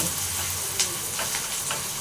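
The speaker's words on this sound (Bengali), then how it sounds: "পেঁয়াজটা একটু হালকা করে ভাজা হয়ে গেলে তখন দিব ক্যাপসিকাম" Sliced onion fries in a pan with a soft, continuous sizzle and a few light clicks of stirring, close by and without talking.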